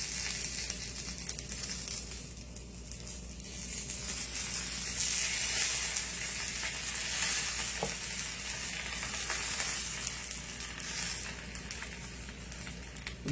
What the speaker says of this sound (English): And then we'll fry them.